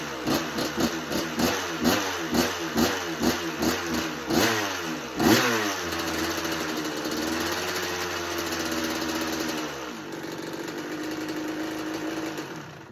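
A Kawasaki KX125 two-stroke dirt bike that struggles to idle blips in a quick series of revs, then settles into a steady buzzing run before the engine note drops and fades.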